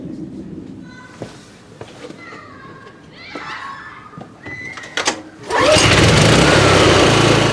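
A new portable generator starts up with a sudden jump to a loud, steady engine drone after a few seconds of quieter background noise and children's voices.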